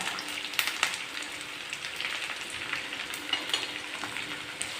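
Chopped onions and green chillies with a little salt sizzle steadily in a pan, a continuous close frying crackle with occasional sharper pops and no voices.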